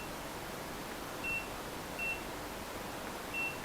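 Multimeter set to continuity mode beeping three times during a check of an ESP32 breakout board's soldered pins: short, thin electronic tones over faint background hiss, each beep brief and clear.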